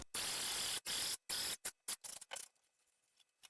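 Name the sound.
sewing machine stitching RC parachute parts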